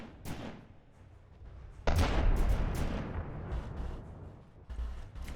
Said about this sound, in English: Both the front guns are having a go, which is good. Rear gun's trying to turn around to shoot.